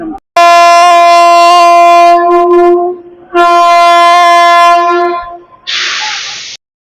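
A loud, sustained train horn blares twice with a short gap between as the train departs, followed by a burst of hissing air brakes near the end.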